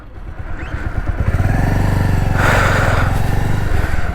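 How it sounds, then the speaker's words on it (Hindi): Motorcycle engine running steadily while being ridden, a loud close rumbling throb with a rising whoosh of wind and road noise partway through, no talking. "और बाइक चल रही है"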